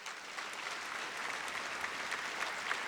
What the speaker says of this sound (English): A round of applause for Lily and Trisha